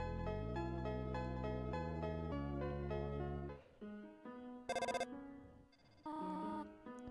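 A phone rings inside the video game Undertale: after a steady melodic game tune, two short, bright buzzing ring bursts sound alone, separated by a brief pause.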